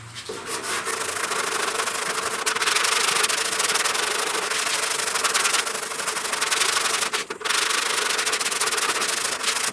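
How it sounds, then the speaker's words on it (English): Round sanding block working primer on the upper cowl panel of a 1969 Chevrolet C10 truck, a steady, close scratchy rubbing that runs nearly ten seconds with a couple of brief breaks, no voices over it. "when you're block sanding primer,"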